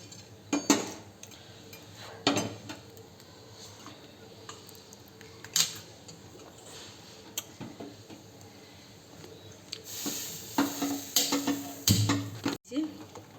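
A metal spatula is wiped against a pan while cooking dalia khichdi: faint scattered clinks and scrapes, with a few sharper metallic knocks and a busier clatter near the end.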